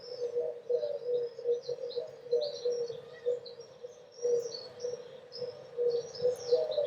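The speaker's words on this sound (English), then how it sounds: "This is what it sounds like when doves cry." Dove calls played as a sound effect: soft, steady cooing repeating through the whole stretch, with brighter bird chirps scattered above it and no voices.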